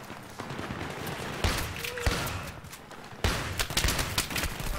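Shotgun blasts from a SPAS in Battlefield 3 on the Ziba Tower map, several sharp bursts in quick succession amid the clatter of other gunfire, loud and close.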